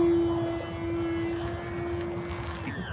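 Small E-flite Gee Bee R-2 electric model racing plane, 1.0 m span, passing overhead with a steady whining drone that holds throughout and shifts slightly near the end, with no talking.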